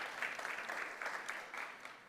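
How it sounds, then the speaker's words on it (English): A panel event audience on youth mental health gives a warm round of applause, dense overlapping clapping at an even level throughout with no voices over it. "So everyone just give them a warm round of applause as we get started."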